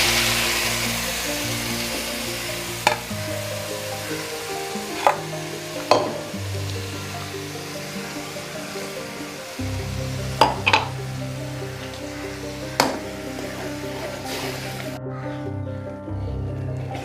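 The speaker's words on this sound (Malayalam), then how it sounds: "നമുക്ക് ഈ അരപ്പൊന്ന് ഒഴിച്ചു കൊടുക്കാം." Ground coconut spice paste poured into a simmering curry, a steady close sizzle with a few sharp knocks of a spoon against the pan and a dip in hiss midway.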